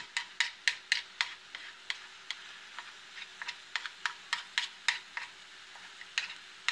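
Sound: scraping and stirring cauliflower fried rice in a pan

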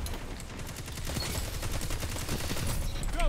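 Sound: gunfire in Destiny 2 video game

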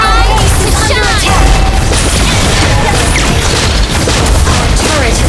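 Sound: turret being destroyed in a video game

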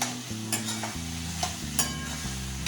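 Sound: potatoes stir-frying with masala in a pan

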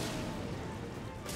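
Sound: grenade explosion in Resident Evil Revelations video game

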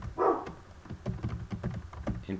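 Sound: dog barking

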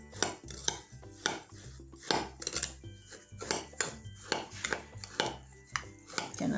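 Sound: mixing meatloaf with breadcrumbs in a bowl

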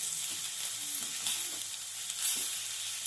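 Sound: rice frying with spices in a pan

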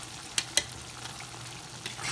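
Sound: tomatoes sautéing in a pan with fish fillet

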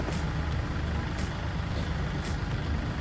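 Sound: Kubota L4018 tractor engine running

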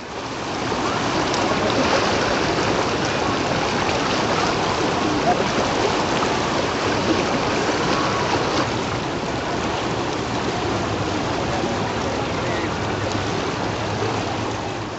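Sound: strong river current of the Ganges flowing

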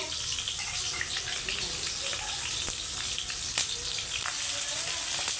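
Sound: onions frying in hot oil

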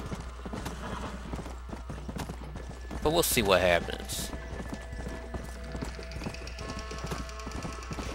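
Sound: horse galloping in video game Red Dead Redemption Undead Nightmare

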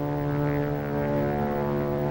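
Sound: propeller airplane flying

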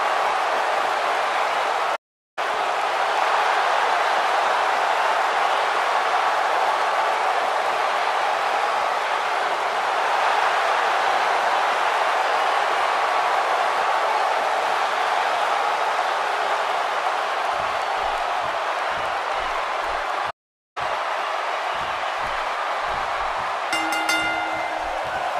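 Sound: wrestling arena crowd in video game WWE 2K18

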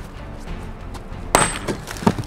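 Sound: wall breaking apart in a video game

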